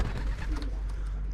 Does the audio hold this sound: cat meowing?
no